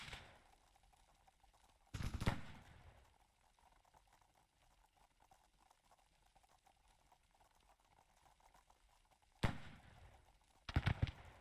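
Artillery fire during a Grand Tactician battle: a few booming volleys, one early burst and a cluster of two near the end, over a faint crackling bed of distant battle noise.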